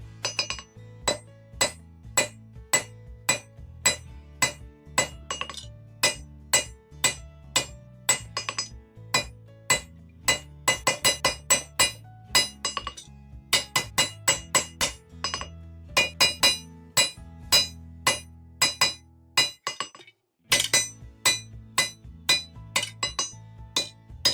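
Sharp hammer strikes on hot metal being forged ring out in quick bursts and rhythmic runs, bright clanging blows with short pauses between sets.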